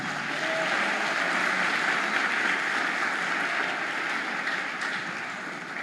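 A church congregation at a worship service gives a sustained round of applause, a dense, even wash of many clapping hands heard at a moderate distance that tapers a little near the end.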